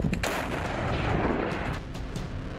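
Artillery fire from the Russia-Ukraine war: heavy booming blasts, one sharp report at the start followed by a rolling, rumbling roar and further distant thuds, loud and reverberant outdoors.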